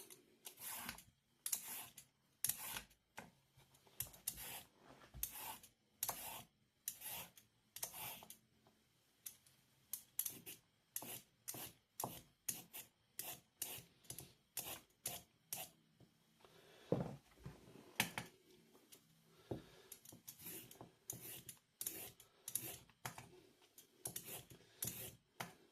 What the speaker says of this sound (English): Peel the carrots.